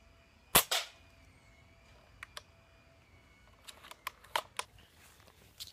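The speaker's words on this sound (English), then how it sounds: "that first shot was a direct hit" Two sharp toy gun shots crack close together near the start, followed by scattered fainter clicks and taps as the toy tank is targeted; no talking.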